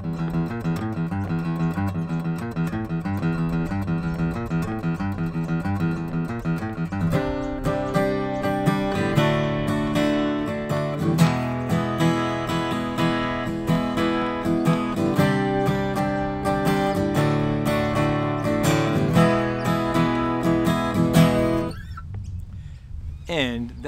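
Guitar playing the chorus riff of a song, the riff repeated four times, with steady strummed chords over a low bass line, loud and close, cutting off near the end.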